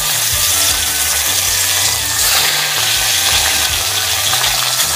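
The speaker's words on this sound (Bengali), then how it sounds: "আর কিছুটা মাছ আছে আমি ভেজে নিচ্ছি" Fish frying in a pan gives a steady, loud, close-up sizzle and crackle that continues without a break, with faint low clatter underneath.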